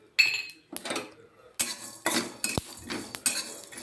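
Sesame seeds roast in a pan over low heat, with a scattered series of close metallic clinks and scrapes of a utensil against the pan and faint light crackling between them.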